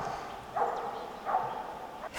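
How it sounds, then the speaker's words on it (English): A hunting dog barks twice at a distance during a wild boar drive in the woods, two short separated yelps that sound faint and far off over quiet outdoor background. "There's a dog."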